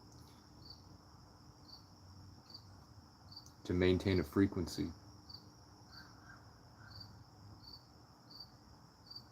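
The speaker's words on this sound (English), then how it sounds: "birds are coming, there's crickets here now," Crickets chirp steadily outdoors in a faint, continuous pulsing trill, with a brief burst of nearby talking partway through and quiet background ambience.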